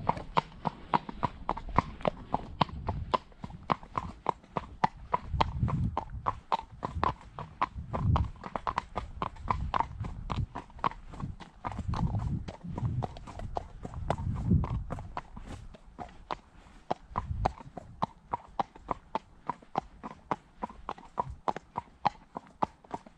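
Hoofbeats of a horse ridden tackless on a hack: a steady, close clip-clop of hooves in an even walking rhythm, continuing without pause, with occasional soft breaths and faint rustling.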